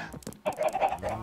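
Minecraft farm ducks clucking and quacking in a video game, a few short calls followed by a busier run of overlapping squawks, close and clear with no talk.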